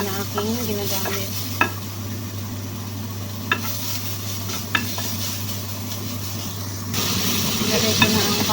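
Eggplant fries in a small amount of oil with a constant close sizzle, broken by occasional sharp clicks of a utensil against the pan and a faint voice in the background.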